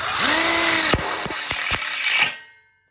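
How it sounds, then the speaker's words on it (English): Power drill driving a low-profile self-drilling screw into metal catcher track for an outdoor kitchen bar counter kit, a close whirring motor that rises in pitch with a few sharp clicks, then winds down to silence. "we lock it in with a low profile self-drilling screw"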